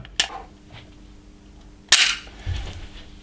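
Two sharp shots from a Springfield Armory Echelon pistol at an outdoor range, one near the start and a louder one just before the two-second mark, each a crisp crack with a short echo and no talking.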